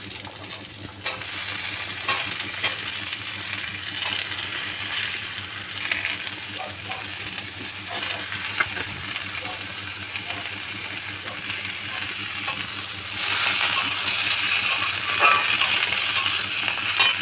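Vegetables go into fried moong dal for a vegetarian Shama rice khichuri, sizzling steadily in a pan while a spoon scrapes and stirs in uneven strokes, the frying swelling louder toward the end.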